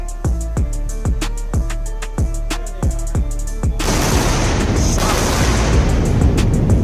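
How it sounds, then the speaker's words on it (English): Two landing rocket boosters set off a loud, evenly spaced string of sharp booming cracks, followed by a heavy, sustained rumbling roar that takes over and keeps going. "Double sonic booms."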